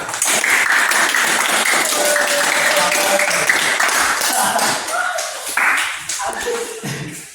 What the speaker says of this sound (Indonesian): Kita beri semangat dulu. Tepuk tangan.